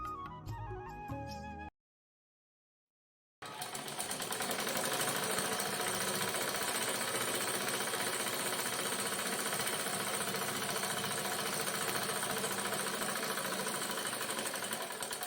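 A sewing machine stitches the folded hem of a petticoat, a steady, fast mechanical whir that runs loud and unbroken after a short silent gap, with a brief burst of stitching heard before the pause.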